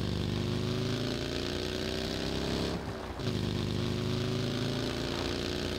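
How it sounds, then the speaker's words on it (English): A motorbike with a sidecar in the video game PUBG hums with a steady mid-pitched engine drone. The engine idles loudly and evenly with no voices, and the sound dips briefly near the middle before resuming. "Well, that's just another motorbike. Oh, there's like a sidecar on."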